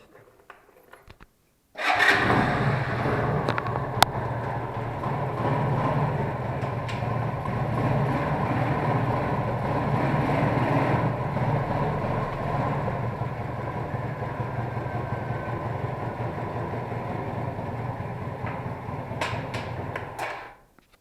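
An Alfa 110 moped engine starts after a brief quiet moment, then settles into a steady, fairly loud idle that runs unbroken for nearly twenty seconds before cutting off.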